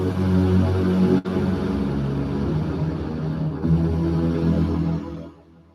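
An "epic cloud formation" weather-themed synth pad: a dense, sustained, wide-spread tonal wash holding steady with a brief dropout near the start, then fading out at the end, no speech.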